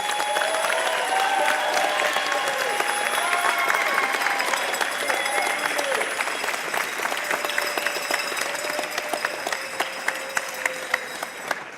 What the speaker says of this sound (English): Let us thank them with a loud round of applause for all their work on your behalf.